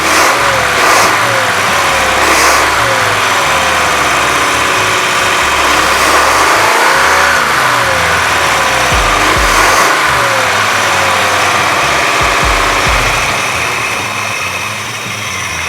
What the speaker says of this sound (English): trying to get the motor warm so that way our idle can drop down